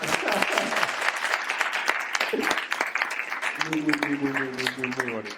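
An audience at a university conference on the psychology of magic applauds steadily throughout, with a voice speaking over the clapping toward the end.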